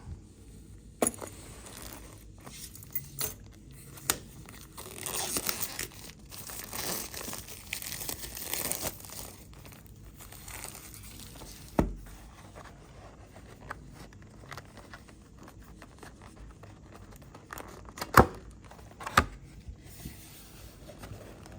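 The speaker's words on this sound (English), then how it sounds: "let's go ahead and open up this 2001 box of XFL football cards" A wrapper from a 2001 box of XFL football cards crinkles up close as it is opened, with scattered crackles and several sharper rustling bursts, and no voices.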